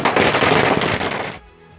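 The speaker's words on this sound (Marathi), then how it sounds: "फटाके फोडून आनंद व्यक्त करण्यात आलाय।" Firecrackers burst in a rapid crackling string during a celebration in Kolhapur, loud and dense, then stop abruptly.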